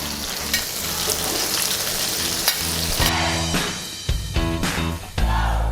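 Vegetables frying alongside browned meat in a wide paella pan for Valencian paella, a dense steady sizzle broken by a few clanks and scrapes of a utensil stirring, close and fairly loud, no voices.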